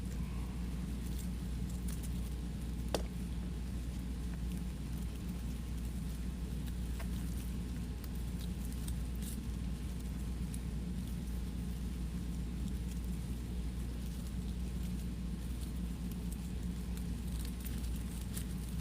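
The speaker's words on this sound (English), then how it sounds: "No, that's the air conditioner because we're fluffy and it's hot." An air conditioner running steadily indoors, giving a constant broadband hiss and low hum that resembles falling rain, with a few faint ticks and clicks scattered through and no speech.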